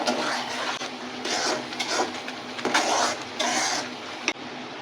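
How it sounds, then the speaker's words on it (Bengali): Rice flour and milk being stirred into kheer in a cooking pot, giving repeated scraping swishes in bursts, fairly close and steady, with no talking. "এখন আমি চালের গুঁড়াটা অল্প অল্প করে দিব আর নাড়বো নাহলে কিন্তু জমে যাবে"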